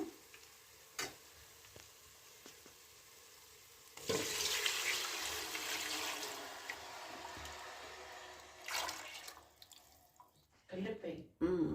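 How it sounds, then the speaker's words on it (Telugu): Coconut milk is poured into a hot pan of fried mint for coconut rice, bringing a loud splashing sizzle midway after quieter frying, with someone talking near the end. "బాగా వేగింది ఇప్పుడు పాలు పోసేస్తున్నాను"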